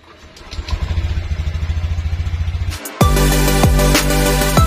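A Honda Beat Deluxe motorcycle with an anti-theft alarm fitted, its starter cranking in a fast rhythmic chug before the engine catches and settles into a loud, steady idle close by.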